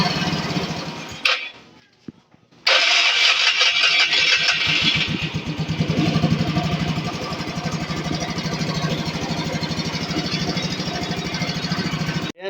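A Yamaha Mio Sporty scooter, noisy when starting, cranks briefly, falls quiet, then fires and settles into a steady, buzzing idle, loud and close with no talk over it.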